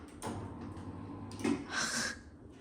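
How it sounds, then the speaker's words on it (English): A sliding window in a hotel bathroom slides and thumps shut, a soft rolling scrape followed by a knock and a brief hiss, close and moderately quiet. "Close the window."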